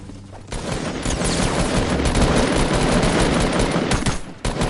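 Gunfire in the video game Fortnite, a loud, dense burst of rapid automatic shots layered into a continuous fusillade lasting several seconds, close and overwhelming.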